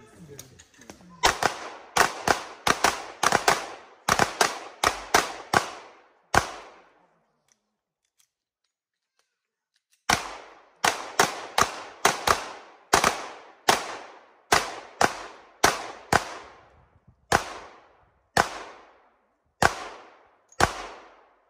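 Rapid rounds of gunshots crack out in quick bursts from shooters at an outdoor mountain games event, with a pause midway before a second string of sharp, evenly spaced shots.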